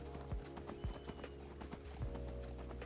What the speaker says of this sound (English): A fast freaking horse.